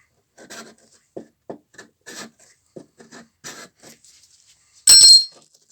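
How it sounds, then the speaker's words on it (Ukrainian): A hand file scraping a weld bead off metal, with short separate rasping strokes, close and clear, ending in one louder, brighter scrape. "Тепер беремо напільничок, остам'язку, тобто, і отак просто його просто тупо знімаємо."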